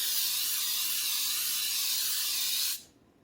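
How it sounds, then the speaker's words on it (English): Baker's Joy flour baking spray hisses from an aerosol can into cake pans over a sink, one continuous bright spray lasting nearly three seconds before cutting off abruptly, close and alone. "I always use Baker's Joy or some type of spray with flour in it"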